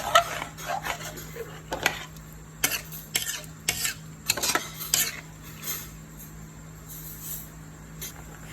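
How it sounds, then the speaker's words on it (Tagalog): A spoon stirs pork and broth in a cooking pot for a Filipino pork dish, giving intermittent clinks and scrapes against the metal in uneven bursts, fairly close, with a steady low hum underneath and no talking. "Halo-haloin lang muna natin ang ating karne kasama ang sabaw"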